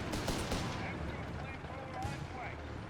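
A .30 cal machine gun firing in the strategy game Company of Heroes 3, a steady rattling burst mixed with other battlefield rumble and a sharper crack near the end.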